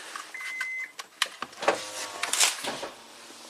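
Power windows on an Acura MDX run in a series of short motor whirs and clicks, fairly close and mixed with small mechanical knocks.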